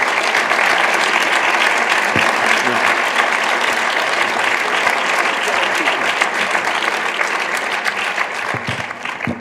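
An audience at a lecture gives sustained, loud applause for guest speaker Kepa Aulestia, a dense continuous wash of clapping that holds steady for several seconds before easing slightly at the end.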